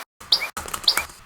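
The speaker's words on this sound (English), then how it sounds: "Now that we kind of have a little bird one shot, we'll make it loud and then build some chords." A chopped one-shot sample of a bird call: two short, sharp chirps separated by a brief gap, loud and close, after a moment of silence, for use in house music production.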